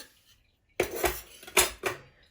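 Two spoonfuls of oil going into a kadhai while preparing a tempering for Malvani pomfret curry: a few sharp metallic clinks and scrapes of a spoon against the pan, close and fairly faint, with no talking.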